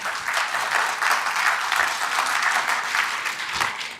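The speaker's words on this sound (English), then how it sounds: "Round of applause." Audience applause at a business excellence awards ceremony, steady dense clapping held at an even level for the whole stretch, with no talking over it.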